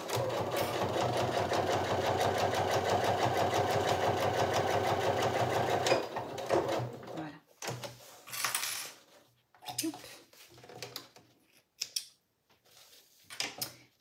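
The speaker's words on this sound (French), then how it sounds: "Donc là, je couds à 1 cm du bord." A sewing machine stitching piping onto a belt bag, a steady fast mechanical whir and rattle for about six seconds that stops, followed by scattered fabric handling and clicks.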